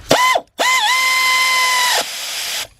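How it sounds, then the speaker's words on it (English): A ratchet turns a spark plug on a 2000 Ford Excursion with a 5.4 engine, giving a loud mechanical whir: a short burst, a brief pause, then a longer steady run of about one and a half seconds before stopping. "Get our ratchet back there."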